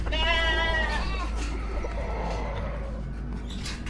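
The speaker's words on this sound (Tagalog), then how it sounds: "Pati kambing." A single wavering goat bleat rings out nearby at a pigeon loft at the start, then fades into outdoor background noise.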